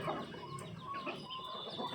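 Chickens squabbling over scraps of rotten eggplant, chopped coriander and cucumbers, with sharp clucks and squawks overlapping at close range.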